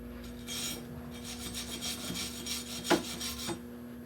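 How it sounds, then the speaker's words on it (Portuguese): Brushing and chipping at a fresh stainless steel weld bead made vertically, a steady close rasping scrape repeated in quick strokes with one sharper knock near the end, no voices. "Vou limpar, bater aqui só para a gente ver."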